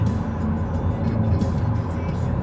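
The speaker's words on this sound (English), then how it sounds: "we're now rushing in the car" Steady low engine rumble and road noise inside a moving car, continuous and moderately loud throughout.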